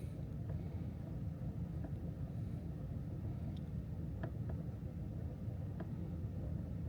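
A 2008 Ford Explorer's 4.0 V6 idling nearby, a low steady rumble with no revving, faint clicks scattered over the even drone.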